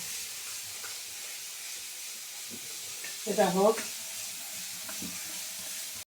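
Panch phoron, dried red chilli and garlic tempering in hot oil, a soft continuous sizzle and hiss under a brief spoken remark, with a louder burst of sizzling near the middle before it settles back to a steady low fry.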